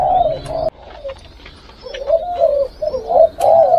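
Spotted doves coo in a breeding cage, loud close hoarse calls repeating in short phrases, with a brief pause in the first second before the cooing resumes and overlaps.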